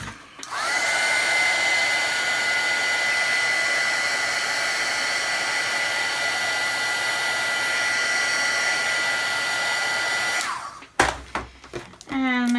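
Hair dryer blowing on a watercolour painting, a loud steady whine and whoosh running up close for about ten seconds before switching off, followed by brief handling noise.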